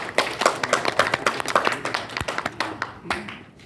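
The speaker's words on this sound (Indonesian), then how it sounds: "Tepuk tangan dulu dong untuk kita semua" A small group claps for themselves after finishing a game, with distinct, fairly close hand claps in an uneven but steady rhythm.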